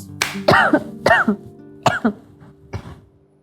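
A person coughs several times in short bursts, close and fairly loud, with brief pauses between, the last cough softer.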